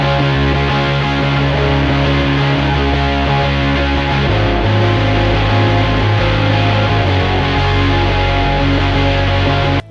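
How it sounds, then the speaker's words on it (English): Several crunchy distorted guitars play the same part together with bass in a song, forming a dense, loud, steady wall of sound that cuts off abruptly at the end. "All of these guitars are playing the same thing, so it creates a really cool wall of sound."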